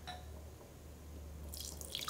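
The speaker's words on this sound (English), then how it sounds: "Who wants liquid to pour like this?" Water pours from a cheap IKEA carafe, starting as a faint trickle and dribble under a low hum, then splashing more loudly into a vessel near the end.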